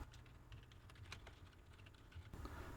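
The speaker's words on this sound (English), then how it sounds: "in the search bar right up here, you want to type in" Someone types on a computer keyboard, giving a quick run of soft, close key clicks against a low, steady background hum.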